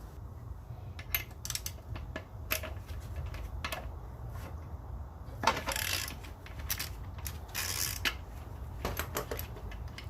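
A 17 mm deep socket tightening a ball pin on a Nissan gives a quiet run of sharp metallic clicks and ticks, irregular and close, over a low steady background hum.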